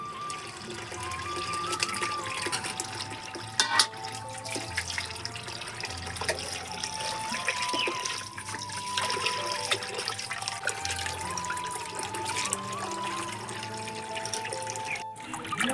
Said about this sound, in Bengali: মাছগুলো কাটা হয়ে গেছে, এবার আমি ধুয়ে নেবো মাছগুলো।